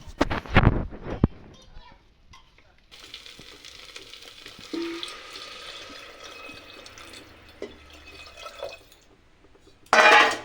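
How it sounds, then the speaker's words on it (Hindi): Water is poured onto roasted rice in a pressure cooker, a loud splash and sizzle at first, then a steady low hiss and bubbling of liquid, with another loud sizzling burst at the end. "अब मैं इसमें पानी डालूंगी।"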